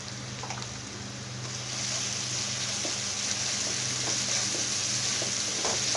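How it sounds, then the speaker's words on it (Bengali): Ginger, garlic and spices for beef rezala frying in a pan, a steady close sizzle that grows louder and denser after the first couple of seconds, with faint stirring clicks. "সবগুলো মশলা আরও কিছুক্ষণ কষিয়ে নেব"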